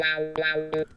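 Sustained electric guitar notes with a sweeping wah filter that opens and closes rhythmically, a few quick picked attacks between held tones.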